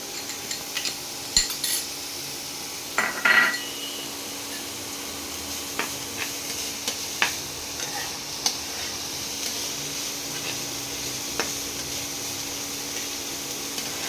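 Onion, ginger, garlic and chopped chili fry in a pan with a steady close sizzle, broken by a few scrapes and clinks of stirring.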